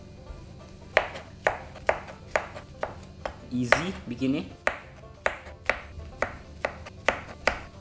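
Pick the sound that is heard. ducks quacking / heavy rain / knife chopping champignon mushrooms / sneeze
knife chopping champignon mushrooms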